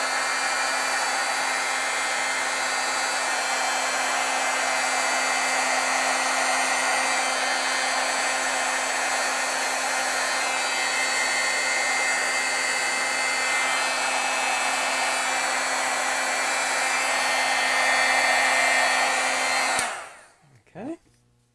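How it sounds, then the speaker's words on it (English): A heat tool blows steadily and loudly to heat set a layer of paint in stamping artwork, a constant whooshing roar that cuts off abruptly near the end. "with every kind of layer you add on, what you want to do is you want to heat set"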